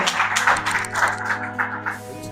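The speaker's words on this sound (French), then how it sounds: "Acclamons très fort Seigneur Jésus." A church congregation applauds in a loud, sustained wave of clapping. It fades over the last half second, and a low steady hum lies underneath.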